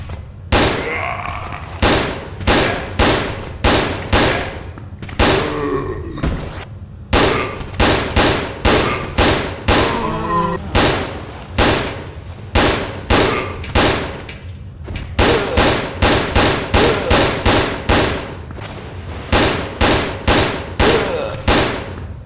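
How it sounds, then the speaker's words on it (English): Assault rifle fire aimed at zombies in Resident Evil: Dead Aim: loud, sharp shots ring out in steady rapid volleys, several quick strings broken by short pauses, with occasional metallic clanks between bursts. "I'm gonna go ahead and test the assault rifle on a zombie."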